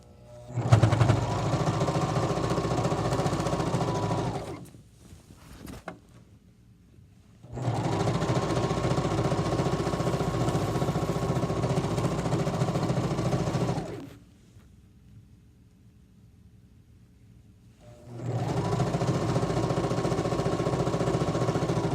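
A sewing machine stitches a pillowcase in three long runs of steady loud whirring, separated by quiet pauses with faint handling noise.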